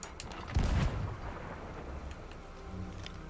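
Antique cannon firing from far away in a video game: a single heavy boom that rumbles and fades, followed by quieter ambient noise.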